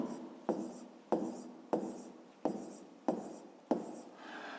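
Pen strokes on paper during a fifth-grade maths lesson, a steady series of six scratchy writing bursts, close and clear with no talking.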